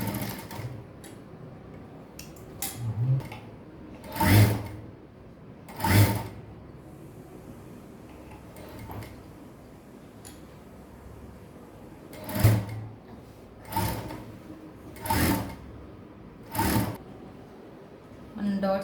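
A sewing machine stitches the shoulder seams of a kid's lehenga in short separate bursts of whirring, each lasting about a second, spaced apart by quiet handling of fabric, close up.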